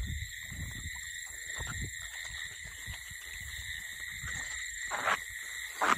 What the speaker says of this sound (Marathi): बेडकांचा आवाज बघा बेडकांचा आवाज